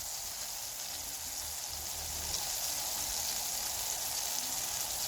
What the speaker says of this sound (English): When the butter is hot, I'm going to saute the vegetable very quickly just to give them a little flavor.